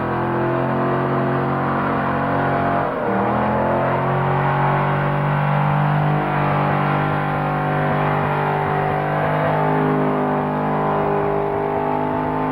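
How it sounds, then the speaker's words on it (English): Drag car with a big block Chev engine and Chrysler TorqueFlight automatic, revving loudly on the start line at Summernats, with a steady deep engine roar that dips and rises around three seconds in. "Chick's car has a big block Chev and a Chrysler Torque Flight automatic"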